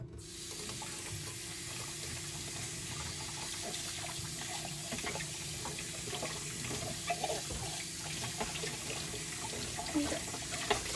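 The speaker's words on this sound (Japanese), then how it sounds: "溜まってる洗い物してます" Running tap water at a home kitchen sink while a pile of dishes is washed, a steady low gush with faint clinks and knocks of dishware scattered throughout, fairly quiet and without talk.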